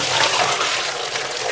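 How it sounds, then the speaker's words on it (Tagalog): Water pours into a catfish breeding container in a loud, close, steady gushing splash that runs briefly without a break. "Lalagyan na po natin ng tubig."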